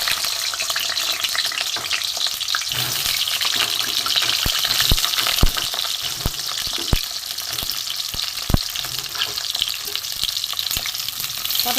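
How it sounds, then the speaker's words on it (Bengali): Cubed pointed gourd (potol) frying in hot oil in a wok: a loud, continuous close sizzle with sharp scraping clicks from stirring scattered throughout, and no voices. "পটলগুলো আমি ভেজে নেব।"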